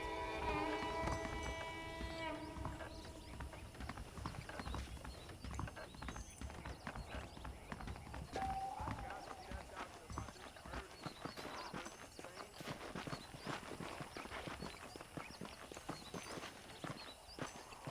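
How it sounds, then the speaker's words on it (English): Horse hooves clip-clop steadily across ground in the Red Dead Redemption game, a rhythmic walking gait that runs throughout, loud and close, with faint ambient game sounds beneath and a brief musical swell at the start. "Okay, let's see if you can still ride a horse."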